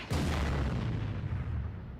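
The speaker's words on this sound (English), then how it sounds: "There's so much explosions." A loud, dense rumble of movie explosions and gunfire, booming bursts piling together in a continuous roar, with no voices.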